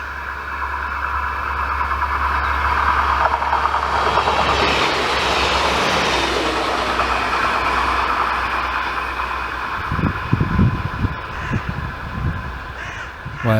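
A diesel multiple unit train rolls past trackside in the sun, a broad rising and fading rumble with wheel noise, while crows caw loudly nearby toward the end.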